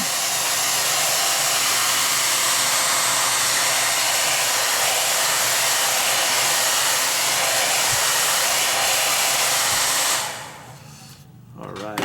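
A hair dryer blows steadily on a clay press-mold bowl form to firm it up, a loud close broadband whoosh lasting about ten seconds before it cuts off, leaving quiet room tone with no talk.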